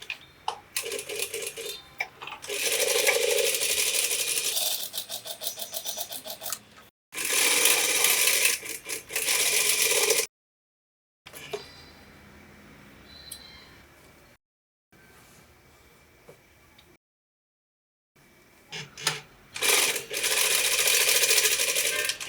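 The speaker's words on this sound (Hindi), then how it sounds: "अब हम ये डार्ट जो है इन्हें सिल लेते हैं" Sewing machine stitching blouse darts in loud, close bursts of rapid mechanical whirring, broken by short pauses and quieter handling between runs.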